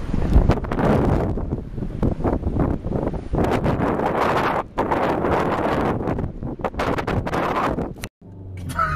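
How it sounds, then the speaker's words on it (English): Strong wind buffets the microphone in loud, gusty roars in mountains near Salzburg. It drops out briefly a couple of times, then cuts off near the end. "It's a little bit windy"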